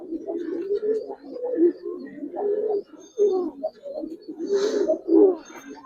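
Giribaz and colored pigeons coo close by in low, throaty, overlapping calls that rise and fall throughout, with a brief flutter near the end.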